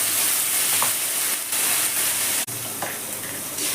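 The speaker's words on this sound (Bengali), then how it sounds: "ভালো করে কষিয়ে নিচ্ছি সর্ষের সঙ্গে শাক দিয়ে" Mustard-poppy seed paste and Malabar spinach sautéing in a pan, a steady broadband sizzle and hiss throughout with brief stirring scrapes, close and fairly loud with no talking.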